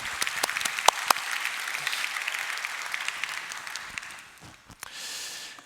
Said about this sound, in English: So again, a lot of applause for them.